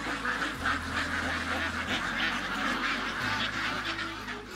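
Pekin ducks raised in cages without water quack and honk continuously in a noisy chorus at close range, with a low mechanical hum underneath.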